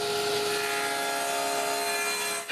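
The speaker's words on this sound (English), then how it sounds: "I start by cutting 2 sheets of plywood of 1/2 inch to size." A power saw cuts through half-inch plywood sheets with a continuous, loud, tonal whine that holds steady and then drops off sharply at the end, close by and with no talking.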